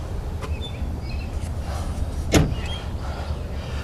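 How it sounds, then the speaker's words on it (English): Rear doors of a Gulfstream Vista Class B motor home swing open with one sharp clunk and rattle of the door hardware, set against a steady low vehicle hum and quieter handling noises. "You can lock this back like this, swing the doors all the way open."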